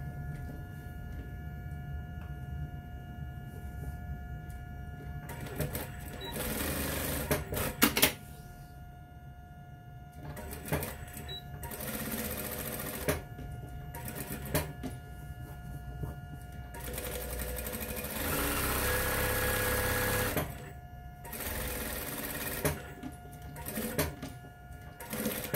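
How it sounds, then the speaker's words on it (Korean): A sewing machine stitches the seams of a dart-style fabric bag, running in several bursts of rapid, buzzing needle strokes separated by pauses, with a faint steady hum between runs and no speech. "창구멍을 제외하고 박음질 하도록 할게요"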